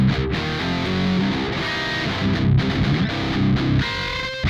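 High-gain distorted electric guitar played through a 5150 amplifier in a recording session, with thick, saturated rhythm chords ringing continuously and loudly, no pauses and no voices.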